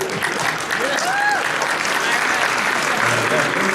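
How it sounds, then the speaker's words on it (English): A crowd at a convention panel claps and cheers steadily for a few seconds, dense and loud throughout. "give him a round of applause"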